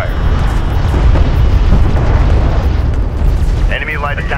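Heavy rumbling explosions roll continuously as a battle cruiser takes fire in the Homeworld: Deserts of Kharak strategy game. The blasts are loud and dense, with a brief electronic chirp near the end.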